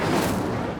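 A fire spell cast in the Hogwarts Legacy video game bursts out as a short, dense whoosh and rumble, loud and near, with no gaps through its brief length.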